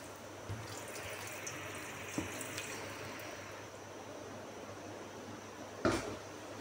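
Water pours steadily into a pressure cooker holding minced meat, a faint, even rush at a kitchen counter, with a brief clink near the end.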